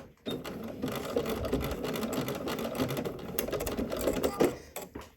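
A sewing machine running a long continuous stitch while understitching bias tape on a shirt, a steady close mechanical whir with brief pauses near the end.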